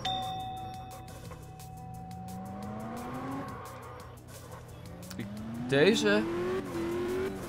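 A car engine in the drifting video game Absolute Drift revs up in rising tones, drops, then climbs again with a brief screechy burst, while a person talks briefly over it.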